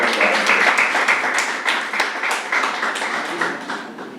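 A close, loud round of audience clapping at a product launch event, many hands beating steadily before thinning slightly toward the end.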